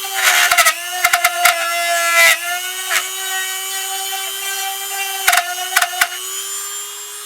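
A Dremel rotary tool carves into a wooden ventriloquist figure, its steady high whine running throughout and briefly dipping in pitch as repeated sharp grinding bursts bite into the wood, close and loud.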